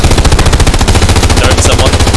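Rapid, loud machine-gun fire rattles continuously from Hell Let Loose, the World War II shooter, heard from inside a tank crew position, with steady rhythmic bursts and faint voices mixed underneath.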